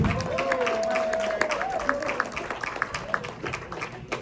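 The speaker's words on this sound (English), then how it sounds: "So everyone, give a big round of applause." Comedy club audience clapping and cheering for a stand-up comedian taking the stage, a steady wash of applause with scattered louder claps, while a host's voice talks over the start.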